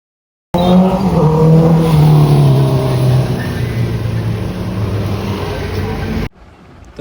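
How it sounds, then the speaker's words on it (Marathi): A vehicle engine revs hard and close, a loud, steady roar with a rising then falling pitch that cuts off abruptly, recorded during an Independence Day flag-hoisting ride. "एका गाडीचा फक्त तुम्ही आवाज ऐका"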